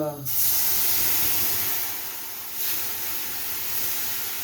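Fish stock hisses and steams loudly in a hot pan as vegetables sweat, with a steady spraying sizzle throughout.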